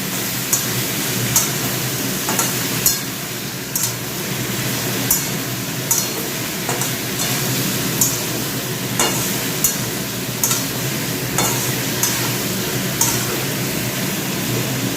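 Vegetables with pumpkin greens frying and being stirred in a pan, a steady sizzle broken by regular sharp scraping strokes of the spatula, close and fairly loud with no talking.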